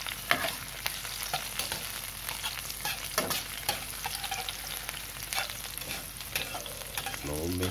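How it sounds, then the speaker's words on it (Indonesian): Spice paste of shallot, garlic, chili and tomato is sautéed in a pan, making a steady, close frying hiss broken by frequent scraping and stirring clicks, with no voices over it. "Tumis bumbu dulu."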